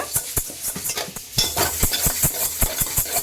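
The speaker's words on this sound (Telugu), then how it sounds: "పెట్టుకున్న తర్వాత పెసరపప్పు అయితే వేయించుకోవాలన్నమాట" Moong dal being fried in a pan, with a spatula scraping and knocking rhythmically against the metal over a soft, steady sizzle, close and clear without any talk.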